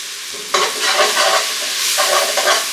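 Onions sauté in a pan for garlic shrimp and asparagus, a loud, close sizzle swelling in bursts as they are stirred and tossed, with no talking.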